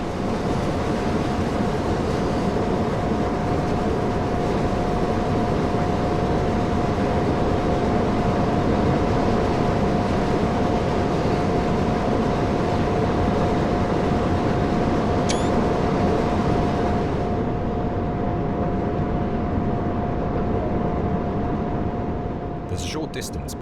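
A DB BR 155 electric locomotive coasts in Train Sim World on the Ruhr-Sieg Nord line between Hagen and Finnentrop, a loud, steady rolling rumble with a constant whine and no change in power.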